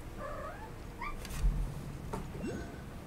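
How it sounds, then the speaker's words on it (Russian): A cat meows a few times in the video game Genshin Impact, set in the Chenyu Vale area of update 4.4, with short, fairly clear calls over a low background of ambient game music and noise. "Кошка мяукает, мешает как угодно."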